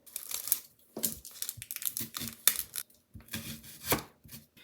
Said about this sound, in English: I am going to go ahead and chop up a thin sliced onion